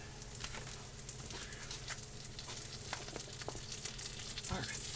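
Butter frying in a pan for homemade taco and taquito filling, giving a steady close sizzle with scattered utensil scrapes and small crackles throughout.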